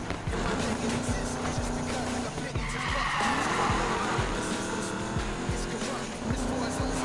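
A Chevrolet Camaro drag car in the Need for Speed game roars and screeches its tires, with steady engine drone, rhythmic thumps and a swelling skid in the middle, while someone talks over it.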